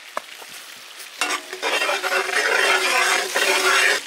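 Cumin seeds hitting hot butter in a well-heated pan for a village-style butter fish, starting quiet then bursting into a loud, steady sizzle with crackling after about a second, no voices.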